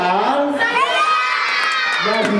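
A crowd of children at a birthday party lets out one long, loud, high-pitched cheering shout that swells and holds, then tails off near the end.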